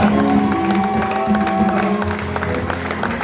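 A church congregation applauds and cheers God in steady, dense clapping mixed with crowd voices and shouts, sustained throughout at a fairly loud level.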